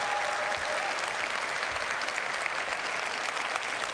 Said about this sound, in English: please, a round of applause for the developers